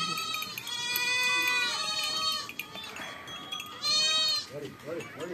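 Goats bleat in a yard in rural Pakistan. Several loud, wavering bleats come in two bursts, with a voice talking under and between them.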